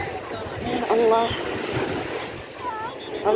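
Sea surf at a beach during a family boat outing, waves washing steadily with wind buffeting the microphone, while voices talk over it and the water noise continues throughout.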